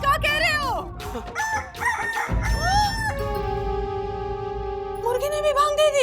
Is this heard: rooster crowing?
yes